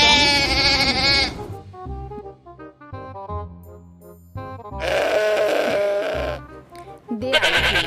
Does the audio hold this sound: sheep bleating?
yes